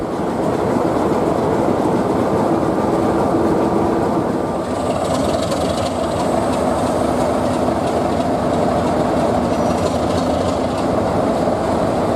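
Class 33 and Class 50 diesel locomotives running round at Ongar, a loud continuous rail rumble with rolling wheel noise and a steady engine drone throughout, no talk.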